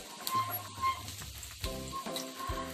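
Alu vadi pan-frying on low gas, a soft steady sizzle with faint scrapes and light taps of a utensil against the pan.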